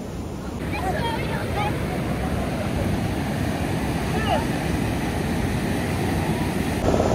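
Sea waves surge and wash onto the beach near Konark on the Odisha coast, a steady roaring broadband wash with wind buffeting the microphone throughout and a faint voice briefly in the background.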